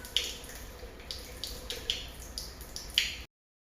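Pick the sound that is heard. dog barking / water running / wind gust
water running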